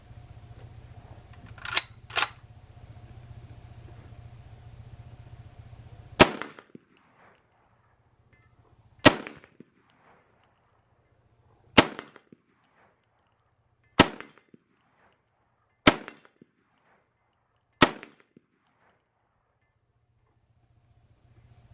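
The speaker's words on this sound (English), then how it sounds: "we're going to run a few rounds through the Standard Pro and see how she shoots." A Standard Products M1 carbine test-fired at an outdoor range on a cold morning: a couple of quick shots, then single sharp cracks spaced a few seconds apart, each standing alone in near silence.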